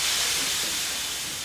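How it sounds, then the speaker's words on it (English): Steam hissing in a ship's engine room: a steady, broadband hiss that stays fairly even and slowly fades slightly, with no voices. "The engine room was filled with great gushes of steam."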